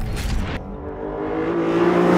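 An Aston Martin accelerates through its gears, a loud near engine roar cutting off briefly at a shift and then pulling again with a rising, steady drone.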